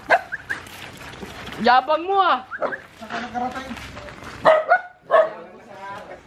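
A dog barks a few times close by, the yaps mixed in with people talking and exclaiming over it.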